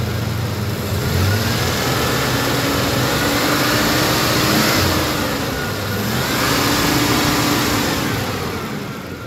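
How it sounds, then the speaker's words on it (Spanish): Ford Ranger pickup engine with a failing alternator revving steadily and close, with two rising swells of throttle over a constant rough drone, no talking. "Le acelero."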